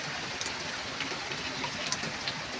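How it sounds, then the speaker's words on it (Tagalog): Steady heavy rain pours during Typhoon Kristine in Laguna, a continuous dense wash of drops on surfaces with no letup and no voices. "Pero, continuous pa rin yung pag-ulan."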